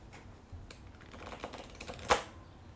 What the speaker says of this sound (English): let's give our deck a shuffle. Hold on, I'll do mine first.